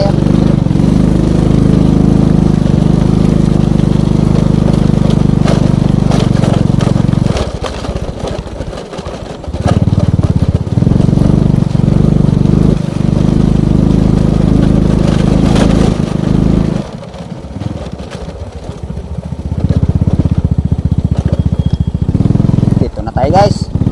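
A parked motorcycle's engine runs loud and steady at a rural fishing spot, a low rumbling idle that cuts out briefly twice before resuming, with people talking over it.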